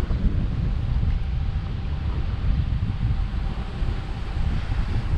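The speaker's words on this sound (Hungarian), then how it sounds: "mert rohadtul fúj a szél." Strong wind buffets the microphone continuously, a loud low roaring rumble with gusty fluctuations and no voices.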